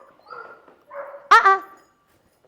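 A doodle dog gives a single sharp bark up close during place training, between soft whines and a person's quiet praise.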